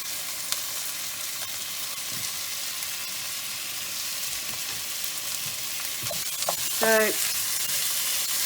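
Garlic and beef mince fry in a hot pan with a steady, close sizzle and spitting crackle, broken by a few light spoon scrapes and clacks toward the end. A voice speaks briefly.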